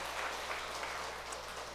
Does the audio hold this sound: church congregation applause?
yes